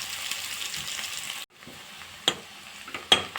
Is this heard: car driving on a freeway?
no